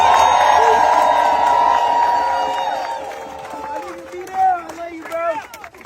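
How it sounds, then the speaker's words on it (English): Audience at a live comedy podcast taping cheers and whoops loudly, a broad roar that gradually fades over several seconds, then a voice talks over the dying crowd noise. "Give B-Down another round of applause."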